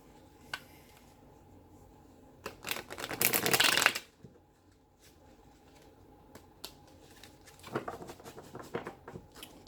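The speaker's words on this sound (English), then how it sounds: "One more good shuffle." Tarot cards are shuffled by hand in a quiet room, a short burst of riffling and pattering, then a few soft taps and a second, briefer shuffle later.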